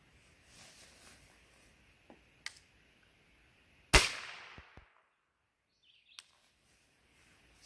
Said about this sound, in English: we're starting with just a standard velocity 22 long rifle